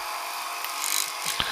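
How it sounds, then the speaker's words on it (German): The grinding wheel of a SuperJolly chain sharpener with automatic hydraulic clamping comes down onto a clamped saw chain, giving a steady high whine and hiss with a brief scraping contact near the end. "die Schleifscheibe wird heruntergezogen, die Sägekette und jeder Sägezahn bewegt sich nicht mehr"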